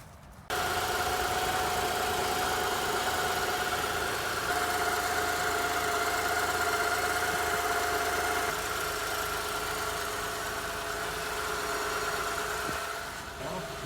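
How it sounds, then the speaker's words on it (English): A Honda Ridgeline pickup truck's engine starts up and settles into a steady idle, a continuous close mechanical hum with a faint whine that holds for about thirteen seconds before easing off. "I'm gonna start the truck"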